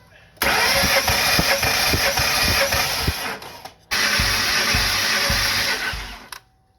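A 2012 Ford Mustang GT 5.0 Coyote V8 with a destroyed engine roars to life twice, running loud and rough with a low rhythmic thumping in the exhaust before cutting off.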